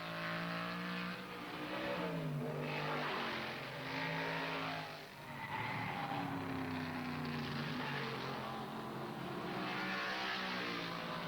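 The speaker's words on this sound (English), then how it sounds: "The drivers are running their cars flat out, as hard as they can" Trans Am race cars run flat out at Watkins Glen in 1970, engines howling past in rising and falling waves as they accelerate and pass, loud and continuous with no talk.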